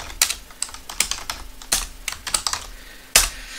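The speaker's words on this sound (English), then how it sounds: "let's say we type in a name, we type in another name" Names being typed on a computer keyboard for race-timing software: a string of crisp, irregular keystroke clicks in small bursts, close and fairly loud, with no talking.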